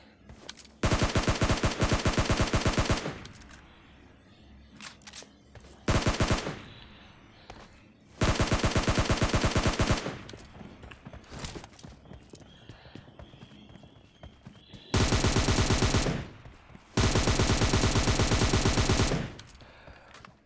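Bursts of automatic gunfire from PUBG Mobile Lite come in several long, dense, loud rapid-fire volleys separated by short gaps, with quieter game ambience between them and no voices.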